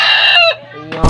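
A rooster crows once, loud and close, in a single drawn-out call that cuts off into a burst of rustling noise, with no talk over it.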